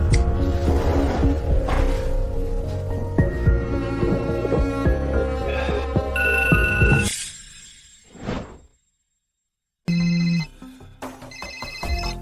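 A phone ringing in the middle of the night, with a bright repeating ringtone cutting through a dense musical score, then dropping to near silence before the ringing returns loud and alone in short bursts.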